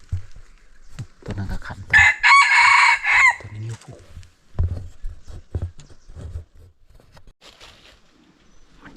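A rooster crows once, loud and fairly close, over about a second and a half. Shorter calls and faint voices come before and after it.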